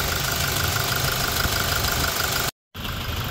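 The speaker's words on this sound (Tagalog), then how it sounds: "Tapos pakikinggan natin yung makina ni boss" A Toyota Innova with a 2.8 diesel engine idles in a steady, even rumble, close and continuous, with a brief cut in the sound near the end.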